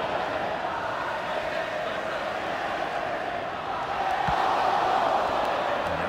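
Stadium crowd in the FIFA 2005 football video game on Xbox, a steady broad roar that swells louder toward the end, with match commentary spoken over it.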